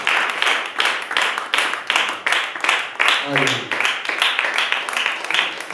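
A church congregation claps at a worship service, with many hands beating a brisk, steady rhythm that stays loud and close throughout.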